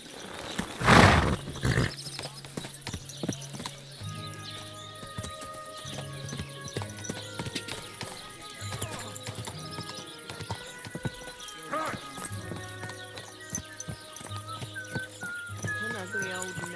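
Horse hooves clip-clop in a steady rhythm alongside a loud whinny near the start, set against a musical soundtrack in Kingdom Come: Deliverance II.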